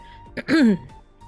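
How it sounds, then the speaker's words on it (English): A single short, rough throat clearing, close and fairly loud, with a brief breathy catch before it. "I might be clearing my throat a lot"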